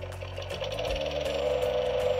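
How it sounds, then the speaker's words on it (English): VTech Pop & Spin Mower toy lawnmower making its engine-rumble sound, a steady buzzing mechanical drone that holds at an even level for about two seconds, near and alone. "Pull the cord to hear the engine rumble like a real lawnmower."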